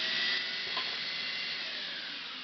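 A buffer grinder spins at cutting speed, giving a steady, loud, bright motor whine with a broad hissing rush that holds constant and fades only slightly over a couple of seconds.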